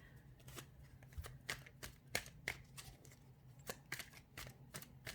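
Tarot cards are shuffled by hand in a quiet room, giving a close, even run of crisp riffling slaps and flicks repeating every fraction of a second, with no talking.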